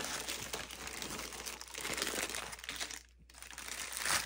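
A plastic Ziploc bag holding a small iguana-shaped mold is handled close up, giving continuous crisp crinkling and rustling with a brief pause near the end.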